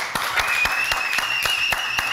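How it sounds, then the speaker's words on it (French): Studio audience applause on a French TV news-comedy show, steady clapping with sharp hand-claps standing out near the front and a whistle-like tone running through. "on applaudit très, très fort"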